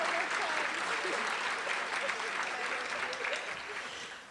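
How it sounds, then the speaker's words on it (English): Audience applause at a county government's annual State of the County event, sustained clapping from a seated crowd in a hall, fairly distant and slowly tapering off toward the end. "Let's give them a great round of applause"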